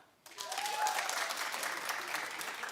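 Studio audience clapping, a steady wash of applause that starts abruptly and holds at an even level, with no talk.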